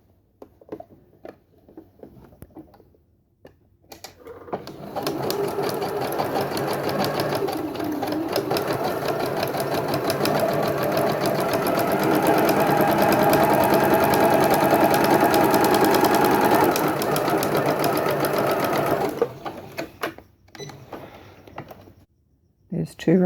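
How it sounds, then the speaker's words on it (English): An embroidery machine stitches a quilt block in a steady, fast mechanical whir with rhythmic needle ticking, running loud and close for about fifteen seconds before stopping, with quieter talk before and after. "And now I'll stitch the other side."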